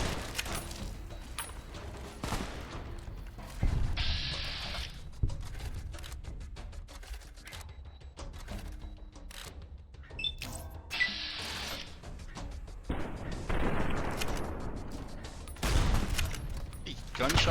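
Gunfire in the video game Fallout: New Vegas, scattered sharp shots and bursts with mechanical clicks and creaks between them, varying in loudness, with someone talking at times.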